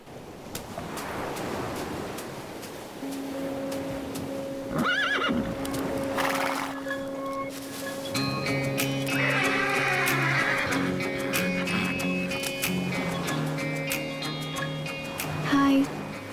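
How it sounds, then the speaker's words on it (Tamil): A horse whinnies loudly near the start amid a film scene with music, followed by steady clip-clopping hooves and further neighs over a sustained musical score. "நீங்க சூப்பரா குதிரை ஓட்டுறீங்க"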